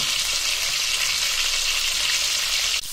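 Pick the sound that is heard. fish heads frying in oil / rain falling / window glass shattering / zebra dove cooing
fish heads frying in oil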